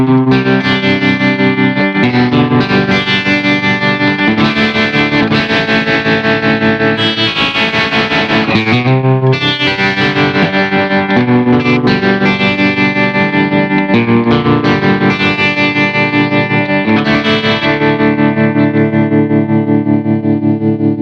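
Electric guitar played through a Positive Grid RIFF audio interface with Bias FX effects, heavily distorted with chorus, sustained chords and notes ringing loud and continuous, no talking.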